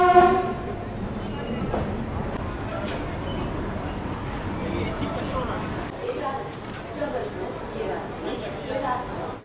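The Pushpak Express, travelling from Mumbai to Lucknow, rumbles with a steady loud roar of wheels and carriages. A faint horn-like tone sounds at the start, and the roar stays fairly even throughout.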